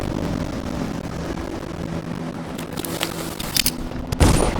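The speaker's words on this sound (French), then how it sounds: "C'est quoi ces coups de feu?" Bursts of gunfire crackle in a Dishonored game scene over a rumbling background, with sharper shots clustered toward the end.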